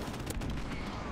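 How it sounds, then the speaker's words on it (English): Airstrike in Call of Duty: Modern Warfare Remastered rumbles as a dense, continuous roar of explosions and booms, loud and unbroken for a short stretch. "Friendly airstrike on the way."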